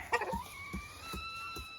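Chickens in a range net chicken house, a mixed flock of Rhode Island Red, BPR, turkey and guinea fowl, clucking and calling close by in short repeated bursts, with a steady higher tonal call running underneath.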